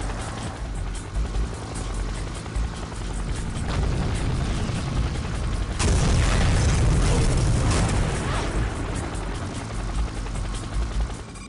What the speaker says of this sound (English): Send in the attack chopper, just in case.